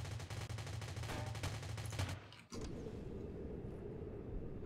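Rapid automatic gunfire in the Rules of Survival battle royale game, a dense loud burst that cuts off abruptly, then continued shooting with a different tone after a brief pause.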